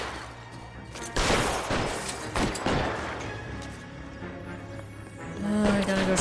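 Gunfire in the LA Noire game, a few loud cracks and crashing bursts in the first half over a steady game soundtrack, fading into a quieter tail.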